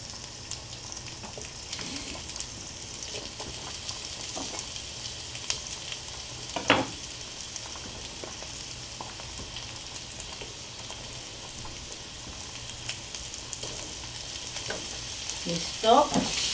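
Chorizo cooking in a pan, giving a continuous, even sizzle and crackle for the whole stretch, with a few faint clicks and pops scattered over it.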